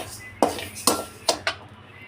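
Finger millet (ragi) being dry-roasted in a pan, with four sharp scraping clinks of a spoon or spatula against the metal at uneven intervals over a low background hiss.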